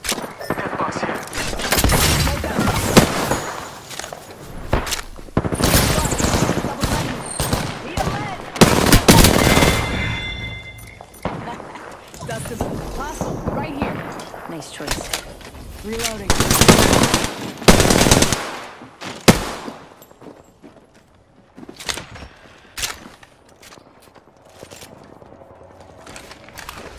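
Rapid automatic gunfire and bursts of shots from an attacking squad in Apex Legends, loud and sustained in repeated volleys with short pauses, under occasional voice callouts.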